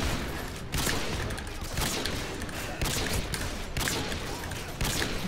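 Rapid bursts of automatic gunfire in a Call of Duty match, loud and dense, coming in repeated volleys with short gaps between them, no voices over the shooting.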